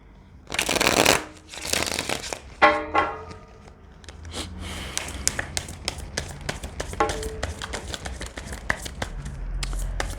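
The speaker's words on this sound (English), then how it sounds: "Why did I want to keep shuffling?" Tarot cards being shuffled by hand, with bursts of riffling and flapping, then a run of quicker light taps and slides, fairly close and moderately quiet.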